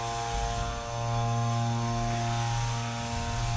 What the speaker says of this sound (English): you can hear that drum humming